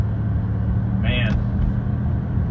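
Car driving with a noisy power steering pump: a steady low engine and road rumble, with a brief rising whine partway through.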